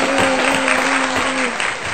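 Applause for the cook in a home kitchen after a husband and wife made Nigerian egg rolls, a steady two-second wash of clapping with a faint tonal hum running underneath.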